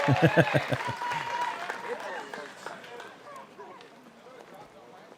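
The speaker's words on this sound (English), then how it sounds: "He finally gets the applause." Spectators at a disc golf tournament applaud a player's tee shot, a burst of scattered outdoor clapping that fades over several seconds while a commentator talks over it.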